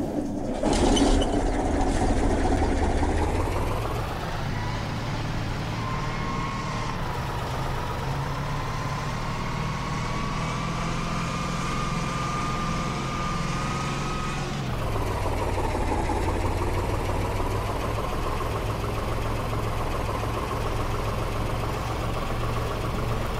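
A MAZ 504 truck in a Farming Simulator 22 mod starts with a loud rumble, then drives steadily with a droning diesel engine, pitch rising and shifting as it accelerates, continuous and close with no talking.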